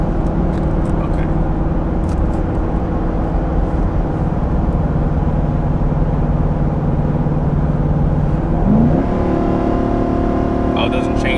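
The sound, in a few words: 2021 Nissan Titan XD gas V8 truck engine while towing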